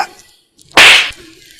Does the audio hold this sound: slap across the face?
yes